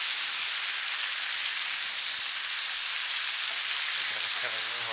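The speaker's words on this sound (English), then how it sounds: "The lovely sound of bacon being fried." Bacon fries in a hot pan with a loud, steady, close hiss and crackle that does not let up, and a voice starts to speak briefly near the end.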